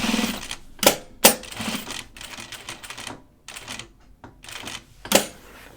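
Sewing machine stitching a seam on a fabric backpack, with short bursts of needle clatter separated by pauses and sharp clicks as the bag is turned.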